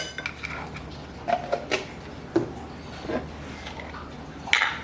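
A utensil mixes a sour cream sauce in a bowl, with scattered light clinks and scrapes against the dish between quieter stretches.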